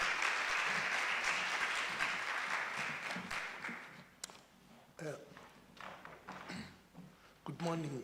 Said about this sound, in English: can we give a round of applause to Dr.